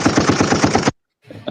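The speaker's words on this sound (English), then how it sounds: "I can give you a gunshot." A gunshot sound effect played live on a biker stream: a rapid burst of loud, evenly spaced shots like a machine gun, then a short silence and a fainter, softer rattle.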